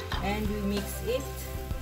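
Butter and flour for a besciamella roux stirred together in a pan, a steady sizzle with soft scraping strokes of the spoon running through, close and moderately loud.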